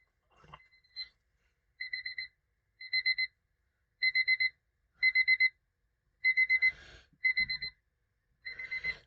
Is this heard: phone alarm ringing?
yes